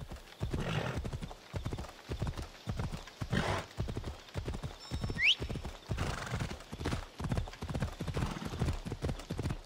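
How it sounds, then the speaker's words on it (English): Rapid, steady clip-clop of a horse galloping in the video game Assassin's Creed Odyssey, loud and close, with a short whinny partway through and no talk over it. "Horse was getting tired, slowing down"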